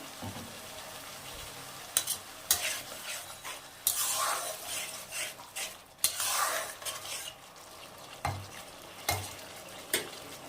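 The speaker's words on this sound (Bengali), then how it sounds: "আমি আবার একটু জল দিয়ে দেবো, দিয়ে আবারও ভালো করে কষাবো।" Spice masala stir-fried with a splash of water in a pan for an egg curry with cauliflower, with repeated scraping strokes of a spoon against the pan over a soft, steady sizzle, close and alone.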